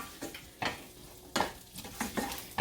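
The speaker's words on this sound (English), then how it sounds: "I'll let the onions fry for a few minutes and then I'll go in with the peppers" Onions saute gently in a pan for a vegan bowl. A soft sizzle is broken by several distinct stirring scrapes and light clanks of a utensil against the pan.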